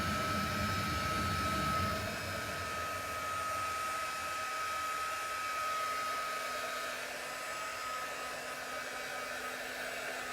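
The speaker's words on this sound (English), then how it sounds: "I'm gonna hit it with the heat gun one more time" A heat gun blows steadily over curing resin, a continuous whirring fan rush with a fixed high-pitched whine, moderately quiet and unbroken throughout, with no talking.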